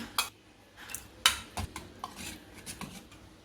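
Scattered clinks and scrapes of a spoon against a vessel as curd is poured and stirred into ragi porridge, a series of sharp taps spaced irregularly, fairly close and with no talk.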